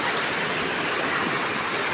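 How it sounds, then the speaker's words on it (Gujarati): A strong waterfall at Jatashankar near Junagadh pours in a dense, steady roar, loud and close, with no break for its whole length. "અહીં કેવો જોરદાર ધોધ વહી રહ્યો છે"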